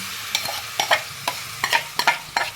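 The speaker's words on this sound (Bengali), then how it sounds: "এবার আমি কড়ার মধ্যে পুরো ঢেলে দিচ্ছি" Marinated chicken in a hot wok (kadai), sizzling loudly with repeated scraping stirs at a rough, uneven rhythm, each stroke bringing a brief hissing burst, close up and without speech.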